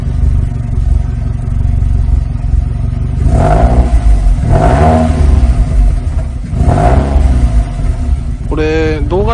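Up close, a GRB car's 2.2-litre engine with a Nur-Spec exhaust blips three times in a row from a steady idle, and a voice briefly speaks near the end.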